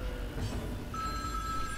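A phone goes off faintly and steadily behind a dense, busy background during gameplay, a thin electronic ring that holds through the clip with no talk.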